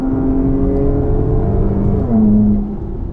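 A 3.6-liter V6 with Jones mufflers and an X-pipe drones under load, then swells in a brief rev near the end before easing back. The exhaust tone is loud and close, with a smooth, low hum throughout.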